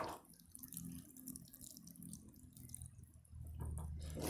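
Water pours and trickles onto the soil at the base of a sweet potato plant, a soft splashing that is faint and close, with a fuller gush near the end.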